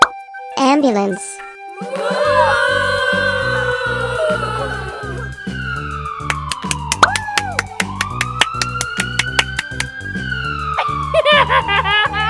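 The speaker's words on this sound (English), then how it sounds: "Ambulance." A toy ambulance siren wails up and down in electronic tones over a rapid ticking pulse, with brief clicks and plopping sounds near the start.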